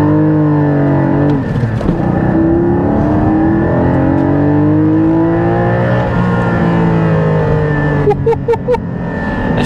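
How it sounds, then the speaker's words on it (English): Second-generation Porsche GT4 making a 0 to 60 launch, its engine loud and close, pitch sweeping upward through rising revs with gear changes, then a few sharp pops near the end. "Let's give this 0 to 60 another chance."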